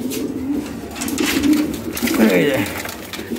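Lahori Shirazi pigeons coo in a low, throaty, rolling call close by, a few bubbling phrases heard over a busy background of other birds.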